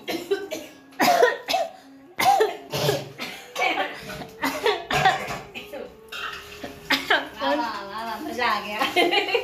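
Repeated harsh coughing fits after eating spicy chillies at home, loud and close, with bursts of clinking dishes and a person talking in between.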